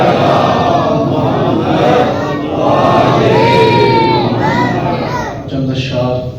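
A congregation in a mosque, the Jamia Masjid Ali in Lala Musa, loudly recites salawat together during a Mawlid celebration. Many voices chant in unison, close and dense throughout, with swelling and wavering tones.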